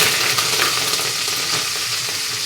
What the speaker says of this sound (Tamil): இப்போ கடுகு உளுந்து நல்லா வெடிச்சிருச்சு.